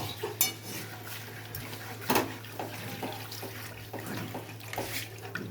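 A spoon stirs bhetki fish curry in a metal pan, giving light scraping clinks and a few louder knocks amid soft sizzling kitchen noise.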